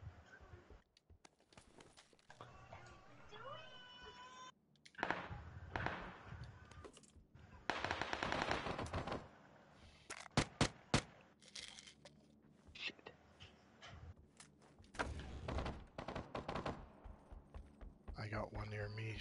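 Video game gunfire cracks out in a few sharp bursts, with a cluster of loud shots midway, amid footsteps and other game noises while several players talk over it.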